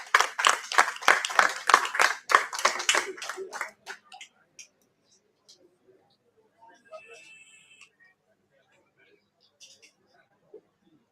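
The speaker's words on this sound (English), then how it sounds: "Please a big round of applause." Audience applause at a doctors' conference award ceremony, a burst of dense clapping for the first few seconds that fades into scattered claps and quiet room noise.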